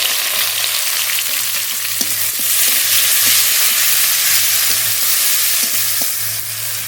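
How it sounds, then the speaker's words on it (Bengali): Chopped tomato and green chilli fry with onions in hot oil, making a dense, constant sizzle close by with a few faint knocks of a stirring spoon. "পেঁয়াজ বেশ হালকা করে ভেজে নিয়েছি এবার টমেটো কুচি দেবো টমেটো কুচি পেঁড়া কাঁচা লঙ্কা"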